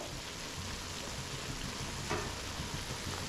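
Snail meat frying in oil in a pan as masala is added, giving a steady, dense sizzle that runs loud and unbroken throughout with no voices.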